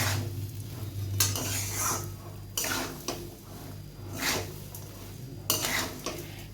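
Semolina and sugar being stirred and fried in a pan, with repeated scraping bursts of a utensil against the pan over a low steady hum, no one speaking.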